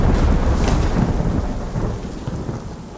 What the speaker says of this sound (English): Sauron causes a storm in this moment.